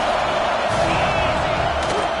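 A packed stadium crowd roars in the NCAA college football video game Penn State match, a loud continuous wall of cheering and shouting with no break.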